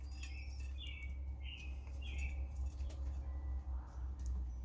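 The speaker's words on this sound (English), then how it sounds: "You are a shockingly food-motivated bird." A pet bird gives a few short, thin chirps close by early on, over a steady low room hum.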